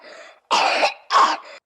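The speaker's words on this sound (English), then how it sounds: "There's a cough there." A person coughs twice, close and loud, two harsh rasping bursts separated by a short pause, with softer throat sounds before and after.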